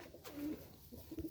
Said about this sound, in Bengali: গিরিবাজ লাইনের পায়রা